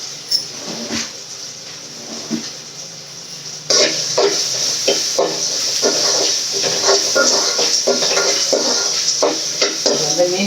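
Ingredients for a fish curry sizzle and sauté in a pan, with a spoon stirring and scraping against the metal in repeated bursts. The frying grows louder and busier partway through, and the close clatter keeps going throughout.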